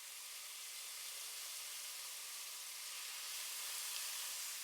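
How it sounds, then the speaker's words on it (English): Marinated beef cubes sizzle in hot oil in a pan, a steady bright frying hiss that holds even and fairly quiet throughout, with no one speaking. "Add the marinated beef cubes to the oil one by one and allow them to sizzle"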